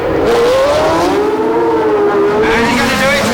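A 1976 Formula One race car at the United States Grand Prix West revs to 11,000 rpm, a loud, close, high-pitched engine wail that swoops up and down continuously.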